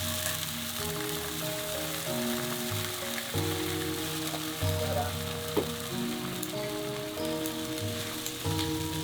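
Scallion and tomato sizzle and fry in a pot, a steady crackling hiss running continuously with small pops, with background music tones underneath.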